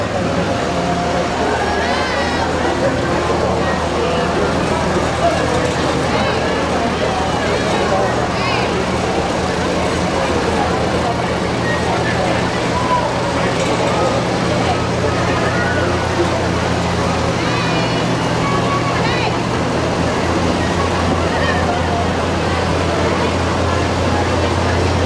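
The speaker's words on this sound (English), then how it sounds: "As these tractors go by" Antique tractors, restored by a club, rumble past in a Western Days cattle drive parade on a town's Main Street: a steady, loud low engine drone that continues throughout, with voices in the background.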